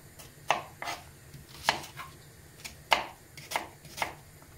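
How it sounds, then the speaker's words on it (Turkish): Knife chopping onions on a cutting board for a Turkish farm-style kebab dish, a steady series of sharp close taps alone in a quiet kitchen. "biz de soğanlarımızı doğrayalım"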